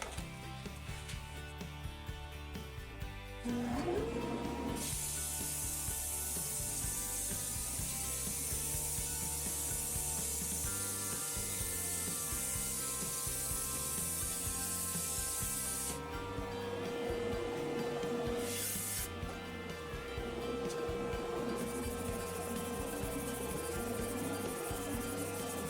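Sandpaper is held against a wooden French rolling pin spinning on a lathe, making a steady rushing hiss over the lathe's low hum; the sanding grows louder and softer as pressure and grit change.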